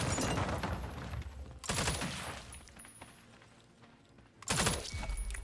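Loud bursts of gunfire from the tactical strategy game Jagged Alliance 3, with dense crackling volleys at the start, around the two-second mark and again near the end, separated by a quieter stretch.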